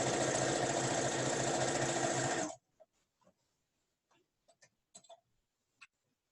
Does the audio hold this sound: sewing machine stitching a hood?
yes